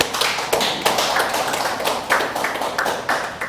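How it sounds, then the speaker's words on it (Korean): A church congregation claps during a Sunday worship service: dense, close applause with sharp, regularly recurring bursts of claps, heard alone with no talking. "하나님께 영광의 박수를."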